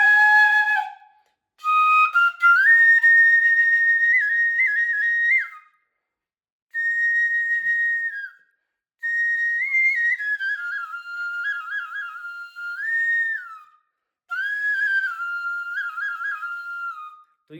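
A small piccolo flute played in its high register, a breath-blown melody of sustained bright notes and short runs in several separate phrases with brief pauses between, close and clear with no talking.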